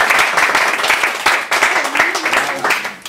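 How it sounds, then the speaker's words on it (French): A crowd claps in sustained applause, loud and close, with rhythmic bursts and voices mixed in throughout. "Applaudissez encore."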